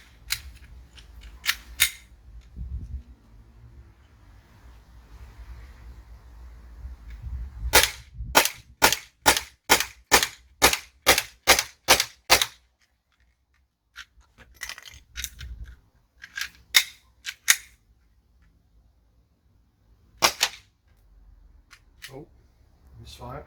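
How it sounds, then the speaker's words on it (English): A Sig P365 CO2 air pistol fires a rapid string of about a dozen sharp, evenly spaced cracks, followed by a few scattered single shots after a pause, with a faint low hum underneath. "what I'm now going to try and do is just blast off a couple of mags"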